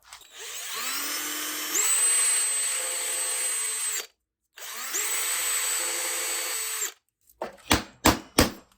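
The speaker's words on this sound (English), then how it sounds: "Maybe try drilling it out." A power drill whines in two long sustained runs, pitch rising as it spins up, drilling out a pin in a car steering column, followed by a few short sharp knocks.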